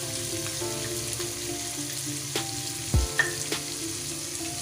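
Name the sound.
masala with tomatoes frying in pan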